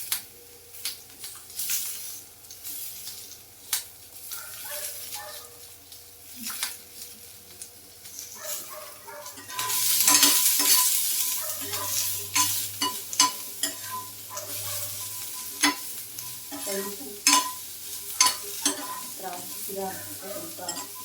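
Onion and capsicum stirred and fried in oil with a little salt in a pan: a steady sizzle under repeated scraping and stirring clatter, swelling louder midway as the pan is worked, with brief faint speech.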